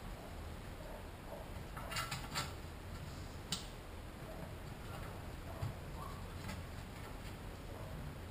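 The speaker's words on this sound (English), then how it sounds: "You want to run it down with a speed wrench first, and then torque it" Speed wrench spinning down bolts on a Ford Cruise-O-Matic automatic transmission, faint ticking and light ratchet clicks with occasional sharper metallic taps over a steady background hiss.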